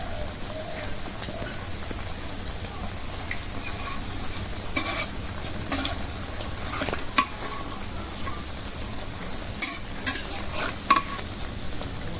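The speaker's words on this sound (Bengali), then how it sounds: "এই যে এখন তেলটা গরম হয়ে গেছে আমি পাতা গোড়াগুলি ভেজে নেব" Pumpkin leaf stalks fry in hot oil, giving a soft, constant sizzle with occasional sharp ticks and pops from the pan and utensil, close and fairly quiet with nobody speaking.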